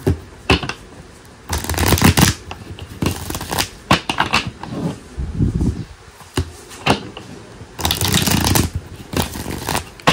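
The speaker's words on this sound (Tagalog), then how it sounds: "Palasahin lang muna po natin ang ating mga baraha para po makita nyo na na-reshuffle po natin siya mabuti" A deck of cards is shuffled repeatedly close by, bursts of rapid riffling flutter separated by brief pauses, with soft handling noises between.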